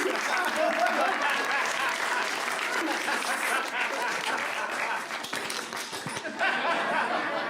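A stand-up comedy audience breaks into loud, sustained applause mixed with laughter, a dense wash of clapping hands that swells and fades slightly over several seconds, with some voices in the crowd.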